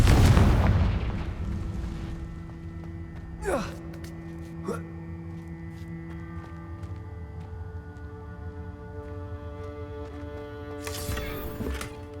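Confringo blasting spell explosions in Hogwarts Legacy: a heavy boom opens, then sharp cracking blasts follow a few seconds apart over sustained ringing game tones, with a final burst near the end.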